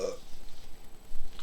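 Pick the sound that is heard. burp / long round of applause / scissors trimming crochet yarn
burp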